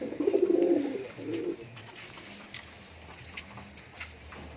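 Fancy pigeons, fantails and Lahori types, cooing close by in a short burst of low, rolling coos at the start that fade into soft shuffling and faint ambient noise.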